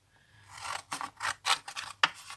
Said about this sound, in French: je vais prendre mes petits ciseaux